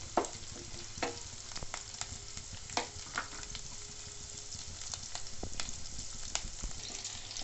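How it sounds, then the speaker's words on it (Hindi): Garlic, ginger and green chili sauté in a pan for a Sindhi lotus stem and spinach dish, giving a steady soft sizzle with occasional scraping stirs. The sizzle is close and moderately quiet, and no one speaks. "लहसुन, अदरक और हरी मिर्च बहुत अच्छे से सौते हो गए हैं।"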